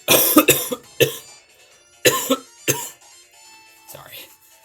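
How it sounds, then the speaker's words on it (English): Several sharp coughs in a cluster, then two more harsh coughs a second apart, close to the microphone, followed by a softer throat sound. "I just coughed"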